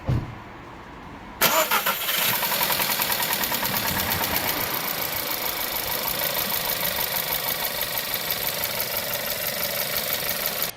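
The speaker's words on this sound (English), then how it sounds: "the only thing that you can do is a cold start of the engine" A Volkswagen 1.4 TSI engine cold-starts, cranking and catching at about a second and a half, then settles into a steady, loud idle with a faint rhythmic ticking.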